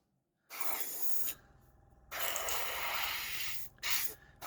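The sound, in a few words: airbrush spraying paint on a Gaslands model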